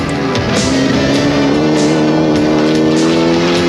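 A 1994 Rally Australia rally car speeds along a closed special stage near Langley Park with a loud, close, sustained engine roar. Its strained revs hold steady and shift slightly in pitch, with no talk.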